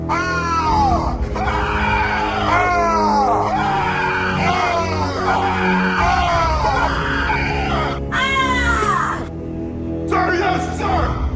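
A military recruit in a film scene screams at full volume, a run of long, strained, harsh yells rising and falling in pitch, loud and close, with a couple of short gaps between bursts.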